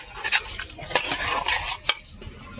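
Raw mango pickle is mixed with oil in a wet, squelching stir, broken by a few sharp clinks of a utensil against the container at an uneven rhythm.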